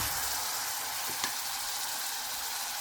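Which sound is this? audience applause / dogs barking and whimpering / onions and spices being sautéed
onions and spices being sautéed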